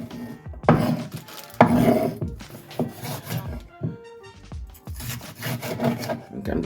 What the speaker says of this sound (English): We're going to chop up some onions here.